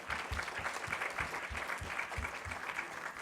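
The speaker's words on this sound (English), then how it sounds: "A round of applause for Renu, please." An audience at an annual session applauds HDFC's Renu Sood Karnad. The clapping is faint but continuous, with an even, dense patter and soft low thumps throughout.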